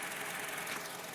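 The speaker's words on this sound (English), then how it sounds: "Got the engine running." A 2005 Honda CR-V engine idles just after an oil change, a faint, steady hum with a light mechanical hiss, brief and unbroken.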